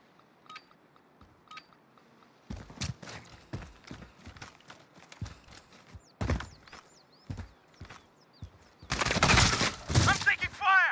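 Bursts of automatic gunfire and single shots in Call of Duty: Modern Warfare multiplayer, irregular cracks building into a long loud volley near the end, with game voices and electronic beeps between.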